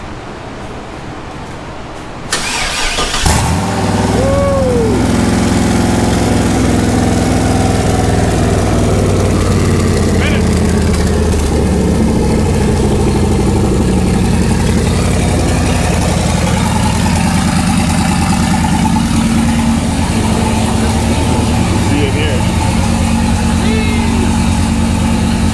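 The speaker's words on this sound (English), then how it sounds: "we might be able to start this thing for the first time" A turbocharged LS-swapped Jeep Comanche engine fires up after a brief crank and settles into a loud, steady, rumbling idle close by, with people talking over it.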